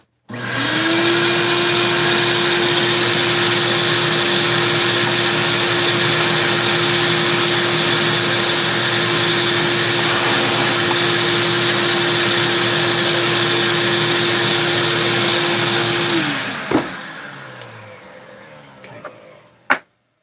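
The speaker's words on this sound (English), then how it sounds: "Let me vacuum real quick." A vacuum cleaner runs close and loud with a steady whining drone for about sixteen seconds, then switches off and winds down into quiet, ending with a faint click.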